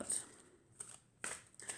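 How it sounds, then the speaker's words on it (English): Decks of oracle cards being shuffled by hand at a journaling desk, quiet riffling and papery flicks in several short bursts, close and soft with no voices. "I'm going to shuffle some decks"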